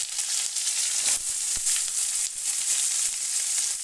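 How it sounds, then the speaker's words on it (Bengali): Chopped capsicum and onion fry in a pan, giving a loud, continuous hissing sizzle that pulses slightly as the pieces are stirred. "এবার ক্যাপসিকাম ও পেঁয়াজ গুঁড়ো করে কেটে রেখেছি ভেজে উঠিয়ে নেব"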